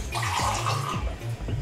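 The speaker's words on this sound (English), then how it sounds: "just fill her up with water." Water runs steadily into a container being filled for broccoli, a continuous rushing pour with a few brief low knocks, close and fairly loud with no talk.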